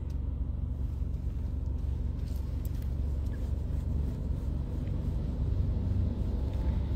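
Steady low rumble of city traffic with taxis and buses, engines droning close by with a constant wash of passing vehicles and no speech.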